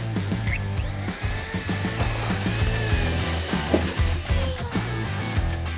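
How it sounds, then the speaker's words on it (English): Power drill boring holes through an integrated privacy partition panel into pilaster brackets during installation: a loud, steady motor whine with bursts of grinding and clicking as the bit cuts, close by and without speech. "I'm going to drill those holes."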